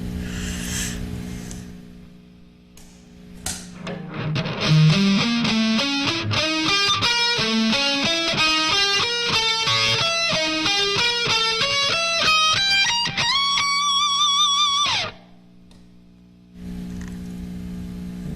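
A distorted electric guitar plays a fast rock lick of major triads a tritone apart, climbing in steady groups, ending on a sustained bent note before a brief quiet gap.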